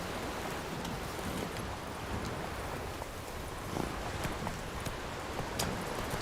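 Roach, a horse in The Witcher 3, trots with steady, soft clip-clop hoofbeats over a constant hiss of wind or surf, fairly faint and without any talk.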